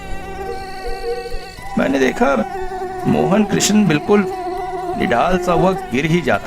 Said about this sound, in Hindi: ऊपर से मच्छरों ने तो तांडव मचा रखा था।